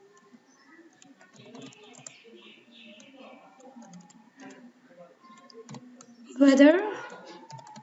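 Quiet keyboard clicks tap out code for a C program in an uneven, steady rhythm for several seconds, and a voice then speaks up close over the typing.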